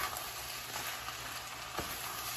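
A sunny side up egg fries in a hot pan, cooked alongside Filipino-style chicken sisig. It gives a steady, close sizzling hiss throughout with a few faint crackles, and no talk.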